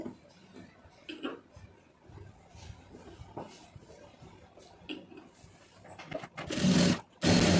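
A tailor's sewing machine stitching fabric, with scattered light ticks and brief whirs before a loud, fast burst of stitching near the end; a voice speaks in between.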